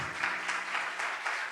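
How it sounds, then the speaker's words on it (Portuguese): A church congregation bursts into strong applause, a close, full wash of hands beating in a quick, steady rhythmic pulse. "levante um aplauso bem forte ao Senhor"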